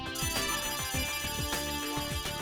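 A phone's message notification tone plays alone, a bright repeating electronic melody of quick descending chirps over a sustained tonal bed, loud and close.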